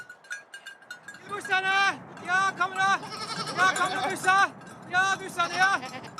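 A herder in the Norwegian fjords calls out to gather his 62 goats: a series of loud, drawn-out, rising and falling vocal calls repeated across several seconds, ringing clearly over a quiet outdoor background.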